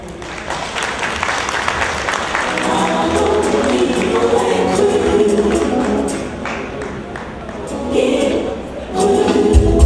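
An audience at a fundraising event for the NGO Deniba Mère et Enfant claps after a speech, a dense, steady applause that holds for several seconds and swells again near the end.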